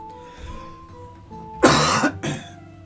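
Two loud, harsh coughs in quick succession, close up, over a faint background hum.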